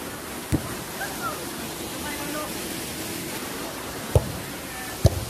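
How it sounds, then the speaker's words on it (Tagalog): Bangon Falls waterfall at Veriato gives a steady, broad rushing roar that runs unbroken throughout, with a few sharp knocks breaking through near the start and end. "So yan po yung falls guys"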